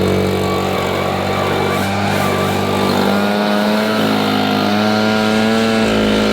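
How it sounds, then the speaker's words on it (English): Backpack leaf blower blowing grass clippings off a lawn, a loud continuous engine drone with a shifting whine that rises and falls slightly as the nozzle sweeps, close and alone. "I'll go back with my backpack blower and blow the grass spotless"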